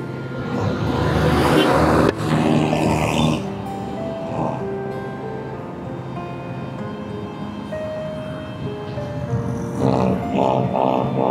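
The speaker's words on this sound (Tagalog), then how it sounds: "Medyo maraming sasakyan na ngayon." Road traffic with many vehicles passing, engines rising and fading in overlapping waves, some louder close passes and tonal engine whines, dense and continuous throughout.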